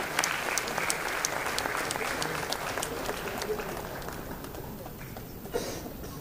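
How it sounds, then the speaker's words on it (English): Audience applause at the 27th annual convocation of a management institute, a steady wash of clapping from a crowd greeting a medal recipient for academic excellence, holding strong before thinning slightly near the end. "One more time, a big round of applause to Shayanti Basu"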